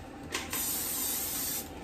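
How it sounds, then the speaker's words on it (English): Cooking oil is sprayed onto the plates of a Redmond waffle maker that makes four waffles at once: a brief puff of aerosol hiss, then a longer steady spray lasting about a second, close by and with no talk. "And we're just gonna lightly spray."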